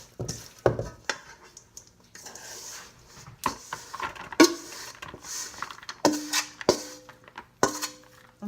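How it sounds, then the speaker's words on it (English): A sticky homemade energy bar mixture being scraped and dumped from a bowl into a cake pan, heard as scattered clinks, taps and scrapes of a utensil against the dishes at close range, with quiet gaps between them. "now what I'm going to do is I'm going to dump this into my pan"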